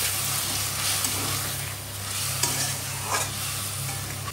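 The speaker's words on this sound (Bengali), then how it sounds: "আর এখানে যে অল্প করে শুধু জল দিয়ে দিচ্ছি, একদম মাখা মাখা রাখবো" Paneer posto sizzling in a pan as a little water is added and stirred in, a continuous frying hiss with scraping stir strokes and a couple of brief clicks, close and alone.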